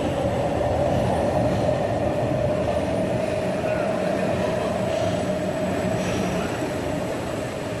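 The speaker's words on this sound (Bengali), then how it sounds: "মেট্রো ছেড়ে বেরিয়ে যাচ্ছে" A Blue Line metro train pulls away from the platform at Noapara station, a steady rumbling roar of rolling carriages with a sustained mid-pitched whine, heard up close and continuous throughout.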